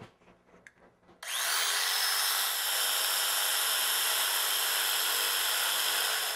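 A power saw cuts crown molding for an installation, running loud and steady for about five seconds after starting abruptly, with quiet faint rustling before it.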